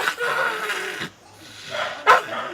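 Dogs held still for rabies vaccination bark and whimper, close and loud, in two or three short outbursts with quieter gaps between.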